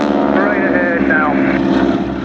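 A Boeing Stearman biplane makes a display pass at the Duxford Summer Airshow, a loud, continuous propeller drone with a pulsing engine beat, while radio voices talk over it.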